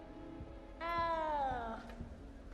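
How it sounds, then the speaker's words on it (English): A small cat in the video game Hogwarts Legacy gives a single drawn-out meow that slides downward in pitch, clear over a quiet, faintly ticking background. "You don't need to be frightened, little cat."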